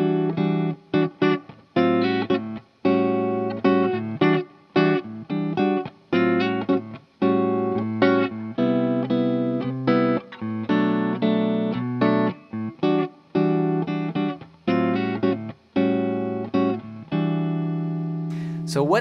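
Electric guitar strums a song's chorus in choppy, rhythmic chord stabs with short gaps between strokes, close and steady for most of the passage with no voice over it.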